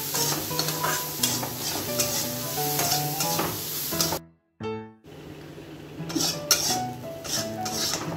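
A spoon scrapes and clinks against a pot as chili and cumin powder are stirred into cooked lentils, a rhythmic clatter over a low sizzle with a brief pause midway.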